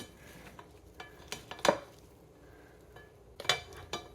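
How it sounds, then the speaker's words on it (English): Two spoons toss a pasta salad with onions and bell pepper in a bowl, making soft continuous rustling and stirring with two sharper clinks of utensil against the dish. "Give it a light mix. You could use 2 spoons for here."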